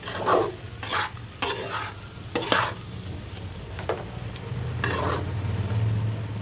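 Cauliflower fry being stirred in a pan for an Indian-style recipe, with repeated scraping strokes over a steady sizzle, close and fairly loud, and no talking.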